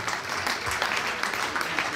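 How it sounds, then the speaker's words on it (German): Audience applause at a live Elvis tribute show in Luxembourg, a dense, steady crowd clapping that stays loud throughout, close and continuous. "Großen Applaus for Peter Ryan"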